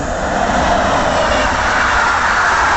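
EP09 electric locomotive, number EP09001, hauling the Intercity Hetman train at Tarnów gives a loud, continuous rumbling roar of passing rail traffic, steady throughout with no speech.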